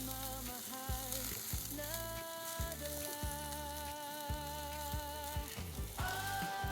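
Sliced onion and garlic fry in a hot pan, a soft sizzle running beneath sustained musical tones and repeated low thumps, fairly quiet overall.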